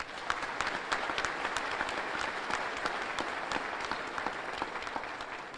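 An audience claps steadily through a round of applause at a State of the State address in Monroe. Dense, even clapping with no cheering, heard from a moderate distance.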